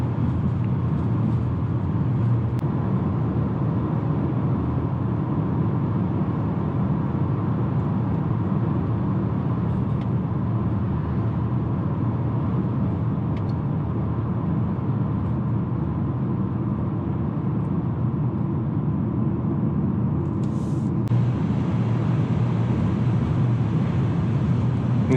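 A 2020 Volvo XC40 on the move gives off steady road and tire tread drone, a constant broadband rumble inside the cabin for the whole stretch, with no talking.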